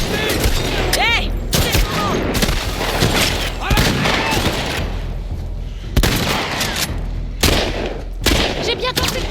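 Gunfire bursts from a shooting fight in The Last of Us Part II, with sharp repeated shots and booms spread across the scene, loud and close, while a voice shouts over the chaos.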